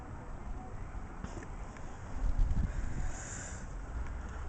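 Wind during a New York City snowstorm, a steady faint rushing with buffeting gusts against the microphone that swell briefly in the middle.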